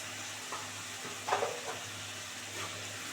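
Spices with Kashmiri red chili sizzle quietly in a pan, a soft low hiss broken by a few scraping stirs of a spatula, the loudest scrape coming midway.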